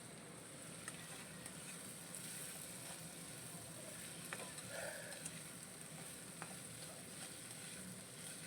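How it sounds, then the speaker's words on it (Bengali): Sliced onions and green chillies fry with black cumin in a hot wok, giving a soft, steady sizzle and crackle throughout, faint and even with no voices over it. "এটা হালকা করে একটু ভাজা ভাজা করতে হবে।"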